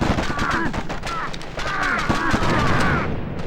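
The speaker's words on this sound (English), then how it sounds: "gunfire that sound more like paintball guns than rifles" Rapid, light popping gunfire from a PS2 war shooter video game rattles in quick bursts, sounding more like paintball markers than real rifles, mixed with a voice talking over it.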